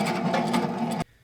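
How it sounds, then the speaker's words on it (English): A meat grinder pushes sausage meat through a 3/16 inch plate for a second grind, giving a steady, loud mechanical whir with a gritty texture that cuts off abruptly near the end. "The next step will be grinding a second time. This time we're going to use a 3/16 inch grinder plate."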